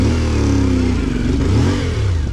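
A CFMOTO Ibex 450 enduro motorcycle's engine revs up close and loud, a steady mid-range roar rising and dipping in pitch over a couple of seconds, with no talk over it.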